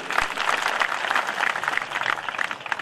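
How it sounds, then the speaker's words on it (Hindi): Audience applause at an all-India Hindi poetry gathering, a dense steady wash of many hands clapping from a sizable crowd, continuous and fairly loud throughout with no voices standing out. "एक बार जोरदार तालियां बजा दीजिए उनके लिए"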